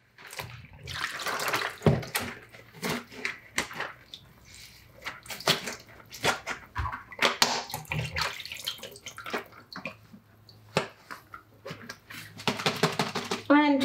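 A plastic bottle holding a wet rag and a little soapy water is shaken hard while washing up after cold process soap making, giving irregular sloshing and thumping bursts with brief pauses between them, and a voice talks faintly at times.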